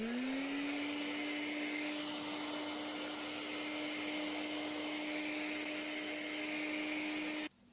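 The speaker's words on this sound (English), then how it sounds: "I'm just going to use a hairdryer" Hairdryer blowing steadily on fabric paint to pop bubbles, a loud continuous whooshing drone with a rising whine at start, cutting off abruptly near the end.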